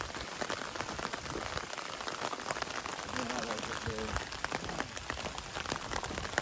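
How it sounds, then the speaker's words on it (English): Steady rain pattering on a surface along the Appalachian Trail in Georgia during a thru-hike, a dense continuous hiss of drops, fairly faint, with brief murmured talk partway through. "Looks like raining everywhere"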